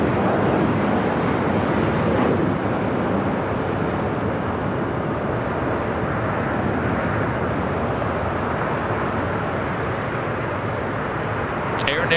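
An Airbus A350 jet taxies toward the gates at LAX, a steady broad engine rumble and roar filling the whole stretch at moderate distance, with wind buffeting the microphone.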